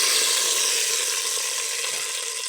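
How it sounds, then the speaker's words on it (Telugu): Dry red chillies and curry leaves crackle in hot tempering oil, a dense, even sizzle heard up close, loud and unbroken for the whole stretch with no voices. "ఎండుమిర్చి, కరివేపాకు వేసి పోపు వేసుకున్నాను"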